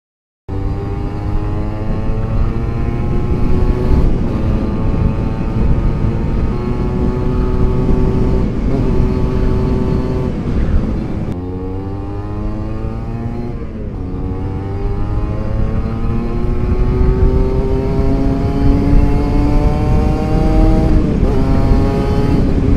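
Kawasaki Ninja two-stroke motorcycle fitted with an aftermarket exhaust, revving loud and close, its engine note climbing and falling through repeated throttle blips with brief dips between bursts.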